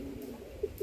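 Soft, low cooing from a pigeon in a loft, faint and close, with two brief coos near the end over a quiet breezy outdoor background.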